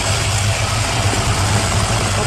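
A car engine runs steadily with a camera placed in the engine bay during a car wash, giving a continuous close, loud idling rumble with broadband hiss and no talk.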